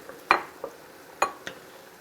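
Cooked pasta with peas and cheese being stirred in a pot, a few soft scraping clinks of a utensil against the pan at irregular intervals, quiet and close.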